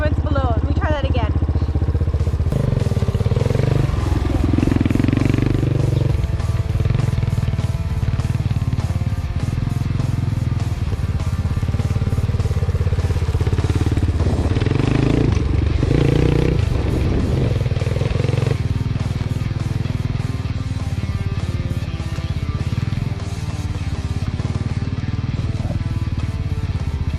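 An Apollo 250cc dirt bike ridden standing over bumps, its engine buzzing loudly and continuously with revving swells and rattling clatter from the terrain, close up, with some talking mixed in.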